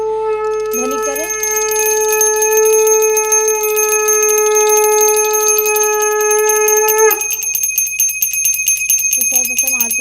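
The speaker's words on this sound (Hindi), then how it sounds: "उसके बाद आपको घंटी लेनी है जो कि विशेष महत्व रखती है।" A metal hand bell rings loudly and continuously during an evening aarti for Thakurji, its bright shimmering tone holding steady for several seconds before cutting off, with faint voice-like sounds at the edges.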